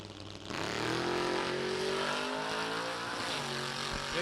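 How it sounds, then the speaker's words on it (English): A 1965 Chevy pickup with a 406 engine launches hard at a drag race, a loud, sustained engine roar rising in pitch as it accelerates away, close and constant throughout. "Pickup hits the loud pedal, and he is moving."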